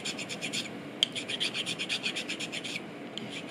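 A metal file rasps across a soot-blackened eggshell in quick, regular back-and-forth strokes, close and fairly quiet, with no talking.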